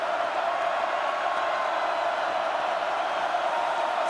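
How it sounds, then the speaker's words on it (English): A loud stadium crowd at an Ole Miss Rebels college football playoff game against Miami, a steady, dense roar of thousands of fans that stays level the whole time with no breaks. "Ole Miss's crowd is very loud."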